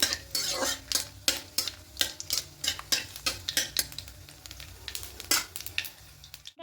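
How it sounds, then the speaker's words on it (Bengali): Tempering spices fry in hot oil with a soft sizzle, under a quick rhythm of repeated spoon scrapes and clinks against the pan, with no voices. "এবার হালকা একটি ফোড়নটা ভেজে নেবো"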